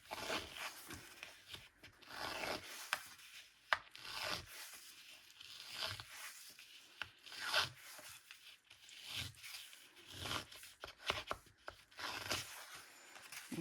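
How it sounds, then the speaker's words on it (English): Paper circles for scrapbook pages are distressed with a tool, giving quiet intermittent scraping and rasping strokes in irregular bursts, close up and faint, with no talking. "I'm just going to distress these circle bits because I can't cut very good."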